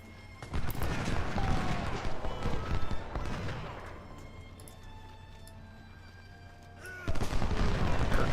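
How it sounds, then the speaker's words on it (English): Volleys of musket fire from troops in the Civil War strategy game Ultimate General: Civil War crackle in dense, overlapping bursts, easing off in the middle before a loud renewed volley at the end. "Alright, Whitaker, take shots at those skirmishers."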